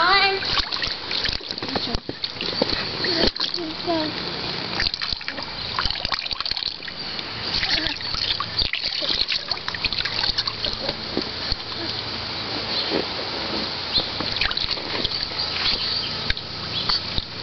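Water runs continuously into a backyard pool, a steady loud splashing and trickling rush that fills the whole stretch, with voices faintly mixed in.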